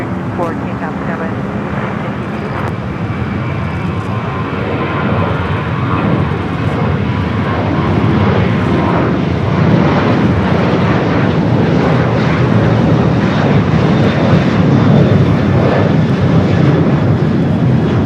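A jet airliner takes off from runway 25 right at Los Angeles International Airport, its engines roaring in a loud, steady, broad rumble that holds for the whole stretch, with radio talk faintly mixed in.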